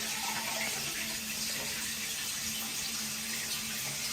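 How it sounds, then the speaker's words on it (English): An EPLO smart toilet runs a full flush, a steady rushing wash of water that stays even and close throughout, with no voices. "It seems like it's doing a full flush."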